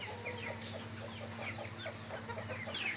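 Black bantam chickens, a laying home breed, cluck steadily in a rooftop cage, with soft repeated calls close by over a constant low hum.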